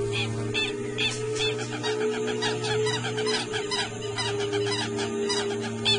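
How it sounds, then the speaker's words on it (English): A flock of wild birds squawks and screeches in a continuous, overlapping chorus of harsh calls, mobbing an anaconda out in the open, with a steady low drone underneath. "The appearance of an anaconda in the open is cause for a lot of squawking and screeching from the bird population."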